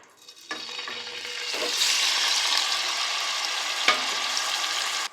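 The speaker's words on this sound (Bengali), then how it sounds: "এবার সয়াবিনটাকে ভালোভাবে তেলের সাথে কষিয়ে নেব যতক্ষণ না সমস্ত কাঁচা গন্ধগুলো চলে যায় আর উপর থেকে তেল ভেসে ওঠে" Marinated soybean chunks drop into hot oil and ghee with a sudden swell of sizzling, then keep frying in a steady loud hiss with a few utensil knocks, close by and with no voices.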